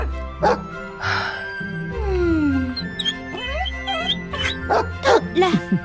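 A puppy yips and barks in a cluster of short, high calls mixed with whimpers and a light jingling, with voices speaking around and between the barks.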